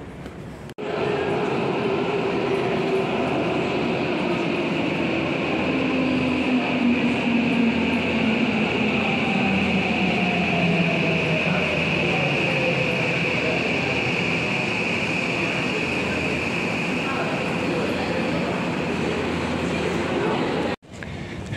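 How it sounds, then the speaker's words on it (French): A train runs at JR Iidabashi railway station in Japan, a loud, continuous rumble with a steady tone and falling whine as it moves through, lasting about twenty seconds before it cuts off. "Je suis donc à la gare JR de Iidabashi."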